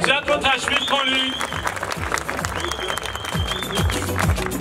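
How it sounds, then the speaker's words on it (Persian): Audience applause rises for a weaving-unit worker at a Labour Day event, clapping steadily under loud background music and a voice, sustained and fairly close throughout. "حجت رو تشویق کنید."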